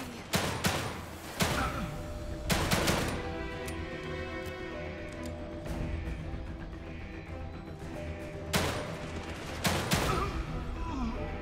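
Gunfire in The Evil Within 2, sharp loud shots in irregular bursts with short rapid volleys, several close cracks over a sustained rumbling game backdrop.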